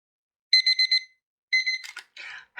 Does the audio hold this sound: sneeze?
no